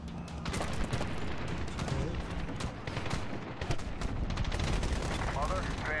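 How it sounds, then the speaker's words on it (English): Mortar blasts and sustained gunfire in the Medal of Honor video game, a dense, loud barrage of rapid shots and booms throughout, with voices briefly heard beneath the combat. "we're taking mortar fire at our position."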